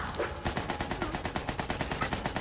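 Automatic gun in Borderlands 3 firing a rapid, steady burst of evenly spaced shots, loud and close, continuing without pause throughout.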